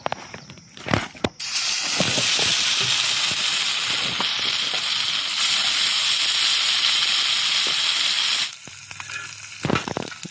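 Fish drop into a hot pan and burst into a loud, hissing sizzle that holds steady for several seconds before cutting off abruptly, with a few knocks and clatters around it.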